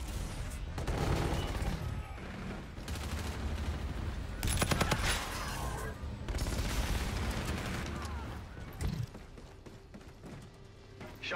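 Continuous NV4 rifle fire in the video game Call of Duty Infinite Warfare, dense loud bursts of gunshots with battle noise and explosions layered over them, with game voice callouts mixed in.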